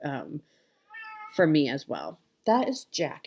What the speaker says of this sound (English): If you hear meowing in the background, he's come down to say hello.